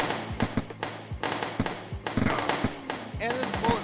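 Sharp gunfire in a Unity top-down shooter game, several separate shots scattered over a steady low game hum, with a brief electronic chirp near the end.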